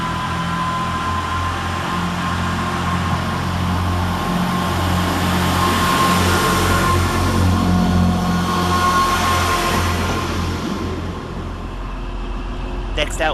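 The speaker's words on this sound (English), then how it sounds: "Working all by itself is 158840, with the 12:56 Transport for Wales service from Manchester Airport to Llandudno via Warrington Banquet and Chester" Transport for Wales unit 158840, a diesel multiple unit at Manchester Oxford Road, gives a steady rumbling engine drone with a tonal whine, close and continuous, with talk over it.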